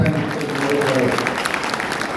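An audience at a Lingayat community bride-groom introduction gathering in Nashik claps to welcome Kakasaheb, a dense sustained round of applause from a crowd filling the whole moment.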